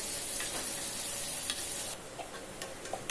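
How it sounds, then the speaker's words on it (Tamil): Sliced onion frying in hot oil with bay leaf and cinnamon stick: a dense, even sizzle with faint stirring taps, dropping to a quieter crackle partway through. "வெங்காயம் நல்லா வதங்கி வரட்டும்"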